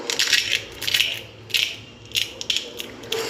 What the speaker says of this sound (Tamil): எவ்வளோ கிறிஸ்பியாக இருக்குது பாருங்கள், அந்த சத்தம் பாருங்கள்.